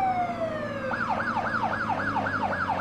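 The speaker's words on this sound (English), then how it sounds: "I'm used to classic sirens, why not?" Police siren in the MadOut2 video game: after a falling tone, a loud electronic wail swings up and down in a steady, fast rhythm over a constant engine drone, close and with no talk.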